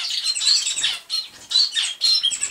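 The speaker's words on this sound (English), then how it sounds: "Hear this clatter of birds?" A lively chorus of canaries chirping and chattering rapidly, loud and close, in bursts with brief gaps between.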